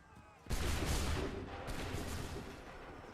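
A musket volley fires in Assassin's Creed 3, opening with a sudden loud burst that rolls into a dense, sustained crackle of many shots and echoing rumble.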